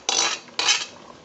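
A metal spoon scraping twice against a pot while mashed okra is mixed into sauce, two short, close, bright scrapes with a pause between.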